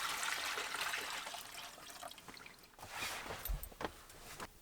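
Hot water poured into a shower basin inside a van, a steady close splashing rush that eases off, then a few lighter sloshes and drips.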